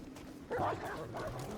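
A single short bark-like yelp from a dog in a video game followed by a softer whimpering tone, fairly close, over a low steady background.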